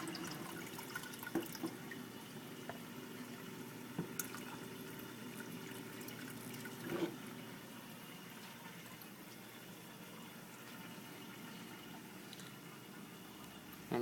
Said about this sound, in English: Now you're just trying to spread the water out as much as you can.